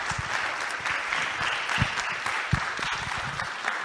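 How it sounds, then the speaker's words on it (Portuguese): An audience at a polytechnic institute session in Tomar applauds, a steady, fairly close patter of many hands with a few sharp individual claps standing out, continuing evenly throughout. "Uma salva de palmas aqui."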